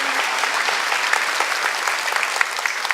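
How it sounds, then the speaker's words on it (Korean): A church congregation claps steadily after a performer's reading, the dense applause staying even and continuous without voices. "우리 박윤건 형제님께 박수 한번 해주시죠"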